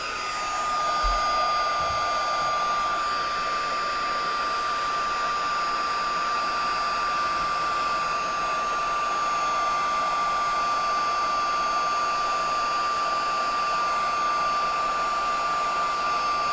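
A heat tool blows hot air onto gold embossing powder on a greeting card, a loud, steady whirring hiss with a high whine that runs unbroken from start to finish.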